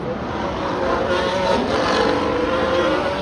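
Formula 1 cars on track during Las Vegas Grand Prix practice make a constant high-pitched engine whine that swells as a car passes, heard under commentators talking.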